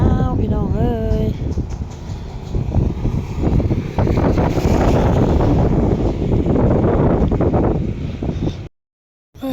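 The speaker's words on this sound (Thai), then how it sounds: "บรรยากาศยามแรงลมหนาว" Cold wind blusters past a roadside vendor's stall on a chilly day, a rough, roaring rush of gusts buffeting the microphone, with brief tonal vocal sounds at the start, before cutting out near the end.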